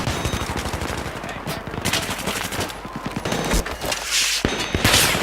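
Gunfire in the first-person shooter Battlefield 3: rapid automatic bursts crackle in quick, repeated volleys, some near and sharp, others more distant, with heavier booms mixed in and no break in the shooting.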